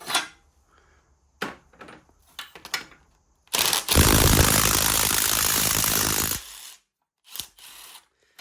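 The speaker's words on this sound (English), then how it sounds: "Now I should be able to sneak in, take off these head bolts" A ratchet wrench loosens the engine head bolts on a Craftsman DYT 4000 riding mower, with short bursts of clicking and tool clatter, then a long, loud, steady ratcheting run of about three seconds, close up.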